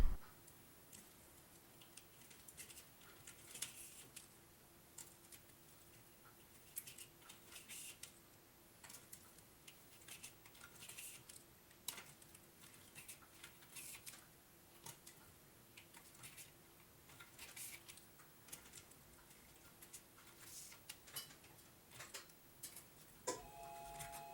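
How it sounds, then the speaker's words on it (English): Hand stitching a leather luggage tag buckle strap, with faint irregular ticks and pulls of needle and thread through leather repeating in a quiet room, and a brief clunk at the end. "we're going to start with a 1 back stitch and then 1 stitch over the edge"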